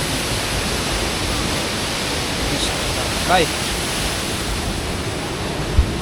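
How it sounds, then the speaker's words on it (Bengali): Steady loud rush of a waterfall near Nafakhum in Bandarban, continuous broadband roar filling the whole stretch, with someone briefly speaking over it and a faint knock near the end. "ঝর্ণার আওয়াজ"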